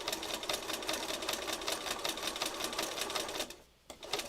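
A sewing machine stitches a heart shape with a close, rapid rhythmic clatter, briefly pausing near the end before starting again.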